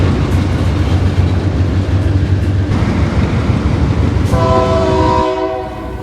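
A train passing close by: loud, steady rumble and rolling clatter of rail cars, with a sustained horn sounding near the end as the roar fades slightly.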